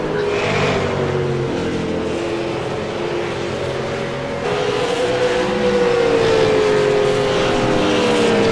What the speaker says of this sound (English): And great cars now out of the pits back on the track.